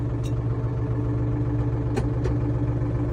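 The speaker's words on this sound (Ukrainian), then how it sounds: "Приємно працює, мотор трьохциліндровий." Three-cylinder diesel engine of a Solis 50 RX tractor runs at a steady idle, a low even rumble heard up close with a few faint clicks and knocks.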